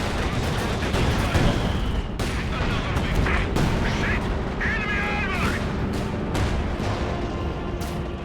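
Gunfire in Company of Heroes 2, a World War II strategy game, with scattered sharp shots and bursts over a steady battle rumble, while a voice talks over it at moderate level.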